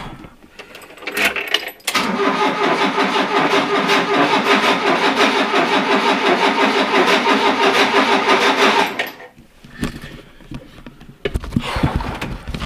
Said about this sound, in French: on démarre le moteur